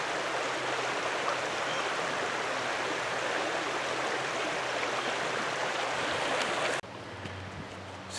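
A small creek in Pinchot State Forest's Elmhurst Tract near Moscow, Pennsylvania, gives a steady, close rushing babble of flowing water that cuts off abruptly near the end, leaving a quieter background.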